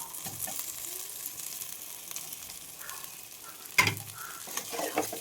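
Fried cauliflower and potatoes are tipped into spices in a pan, giving a faint, steady sizzle with a sharp clatter of pieces landing partway through, alone with no talk.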